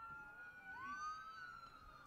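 A siren wails at a college baseball ballpark during a McNeese vs. Eastern Illinois game, with one rising, sweeping tone carrying from a distance over faint crowd ambience. No one talks.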